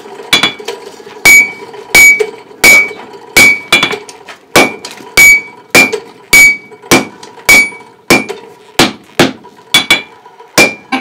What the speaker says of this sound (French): Je peux mettre des coups de marteau après ou pas?